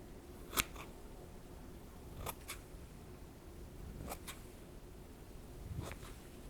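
Craft scissors are handled quietly in a calm indoor space, giving a few sharp, isolated metallic clicks and snips spaced a second or two apart over a soft background hiss.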